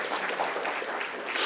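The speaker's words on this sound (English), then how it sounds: "A round of applause, ladies and gentlemen," Audience at the FKCCI Manthan 2022 mentors session clapping, a brief burst of dense, fairly faint applause heard from within the hall.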